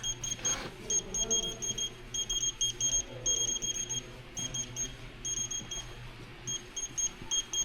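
A handheld scanner logging beehives while preparing for wintering emits repeated short, high electronic beeps in quick regular clusters, clear over a low steady background rumble outdoors.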